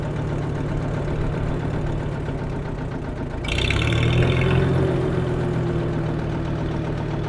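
A Field Marshal tractor engine thuds at a steady idle, then its note rises and thickens as it takes up the drive and pulls away, loud and close throughout.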